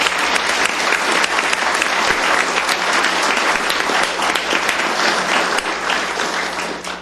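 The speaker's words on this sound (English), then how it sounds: "Let's give these 5-year employees a round of applause." A county commissioners court audience gives a loud, steady round of applause for five-year employees, dense clapping from many hands sustained evenly throughout without any speech.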